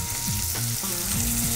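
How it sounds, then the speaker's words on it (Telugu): Raw ground onion paste sizzles and fries steadily in a pan for an Indian mullangi kofta curry, a dense continuous hiss, close and alone, with a faint hum beneath. "ఇప్పుడు ఇందులో ఉల్లిపాయ పేస్ట్ వేసుకుందాం."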